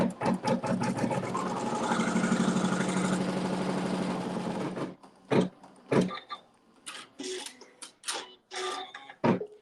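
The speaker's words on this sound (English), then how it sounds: "We're just going to lay this down right side down with the raw edges even. And we're stitching another seam." A sewing machine runs steadily for about five seconds, stitching a fabric seam for a log cabin quilt block, then stops and is followed by several short knocks and handling sounds.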